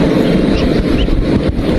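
Sudden wind gusts roar across open water around a small fishing boat, a loud, continuous blustery rush buffeting the microphone with a low rumble beneath and no talk.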